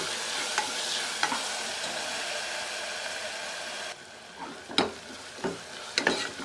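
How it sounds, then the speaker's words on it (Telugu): Ginger garlic paste frying in oil for a drumstick mutton curry, a constant dense sizzle that softens midway, with several scraping stirs near the end, heard close. "కొంచెం అల్లం తెల్లగడ్డ పేస్టు పచ్చి వాసన పోయేంతవరకు వేస్తామండి"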